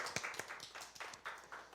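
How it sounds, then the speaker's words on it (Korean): A student congregation clapping in welcome during a church service, a faint scattering of distinct, uneven hand claps, sparse and somewhat distant. "우리 박수로 환영해 주시겠습니다"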